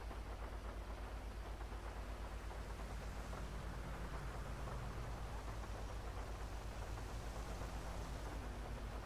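Steady rain falls in a dense, even wash of noise, continuous and moderately faint, with a low rumbling undertone and no voices.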